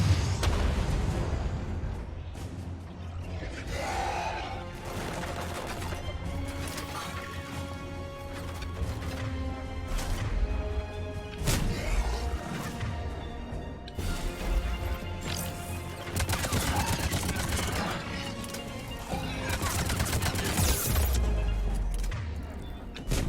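Gunfire in the video game Mass Effect Legendary Edition: a dense, continuous barrage of loud shots and impacts with sharp cracks and heavy booms, layered over a steady game soundtrack, with no talking.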